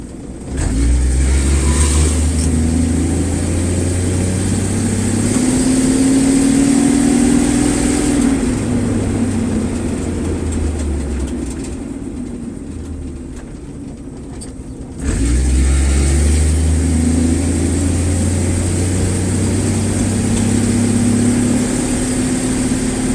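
A 1963 Ford Falcon Futura engine drives steadily around a block, loud and close, with low rumbling harmonics rising and falling through gear changes, easing off briefly midway before pulling strongly again.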